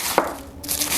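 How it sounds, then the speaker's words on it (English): Cabbage is chopped by hand with a knife on a board, one sharp close cut followed by crunchy, rustling slicing sounds, with no voices. "So I'm going to chop this up"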